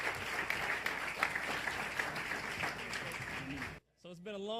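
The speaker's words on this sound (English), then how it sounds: "Give our panelists a round of applause." Audience applause for panelists closing a conference panel, a dense roar of many clapping hands sustained for several seconds, then cut off abruptly as a voice begins speaking.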